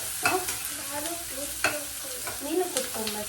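Food frying in a pan with a continuous sizzle and repeated spatula scrapes and stirs, close and alone.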